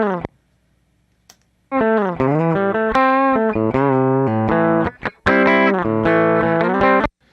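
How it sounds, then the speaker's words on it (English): Electric guitar run through a compressor plugin in Logic Pro X, playing loud sustained riff phrases with slight pumping and clipping after a quiet opening pluck. "So this is what it sounds like with the compressor."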